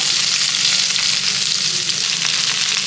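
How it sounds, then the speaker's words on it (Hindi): Onions sizzle and fry in hot oil in a pan, a steady, dense crackle that runs unbroken and fairly loud throughout with no voices over it. "इन प्याज को बस तेल में छौंकना है, बन जाएगी सब्जी।"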